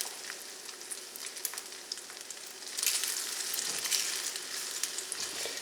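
An egg cooks in a skillet with a soft, continuous sizzle and scattered light crackles and pops, fairly quiet and close, swelling slightly midway.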